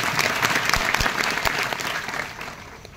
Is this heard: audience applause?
yes